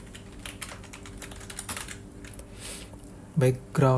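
Quick clicking keystrokes on a computer keyboard while coding an HTML form, close and irregular, with a person starting to speak near the end.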